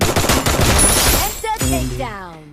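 Rapid bursts of gunfire in the video game Free Fire crackle loudly for over a second, then fade into tonal electronic game sounds and a brief voice.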